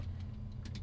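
A Sprinter van engine idles with a steady low rumble, close and moderately quiet, with a few small clicks over it.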